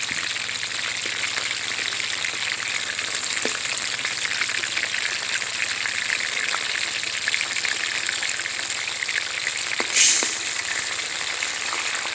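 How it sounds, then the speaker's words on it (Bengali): Lote fish pakoras deep-frying in hot oil, giving a steady, dense crackling sizzle with a brief louder burst near the end, close and continuous with no talk. "এবার পকোড়াগুলো আমি লাল লাল করে ভেজে নেব।"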